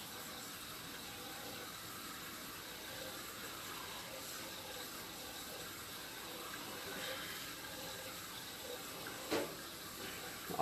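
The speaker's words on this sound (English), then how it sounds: "you can see the water exiting the bottom of the pipe" Water running out of the bottom of a sagging drainage pipe with an offset joint and structural failure, a steady broadband wash of flow, moderately distant, with a couple of brief knocks near the end.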